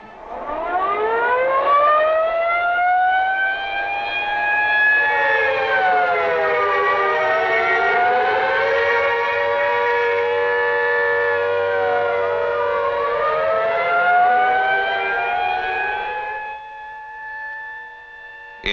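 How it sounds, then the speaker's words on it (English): Civil defense air raid sirens wailing over 1950s Calgary, several overlapping tones rising and falling out of step with one another, loud and sustained for about sixteen seconds before tapering off. "Mrs. George LaPierre hears the sirens and checks her radio"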